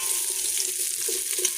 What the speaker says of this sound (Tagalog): pag golden brown na ang ating garlic, lalagay na natin ang onion